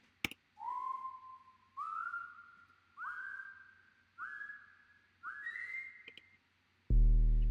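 A whistle-like synth patch from the Serum synthesizer plays five sliding, gliding notes in a steady phrase, each rising slightly in pitch, loud and close with no voices, ending in a burst of broadband noise.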